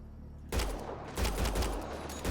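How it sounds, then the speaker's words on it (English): Gunfire rings out in Mass Effect Andromeda as a loud burst kicks in after a brief quiet lead-in, followed by several more sharp shots in quick, uneven succession. "Going for headshots, it takes less bullets."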